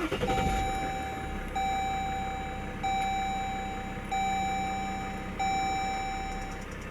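Push-button start on a 2016 Jeep Grand Cherokee Summit with the 3.0 V6 CRD diesel: a steady engine rumble carries on under a repeating electronic chime that beeps in regular, evenly spaced pulses, close and loud.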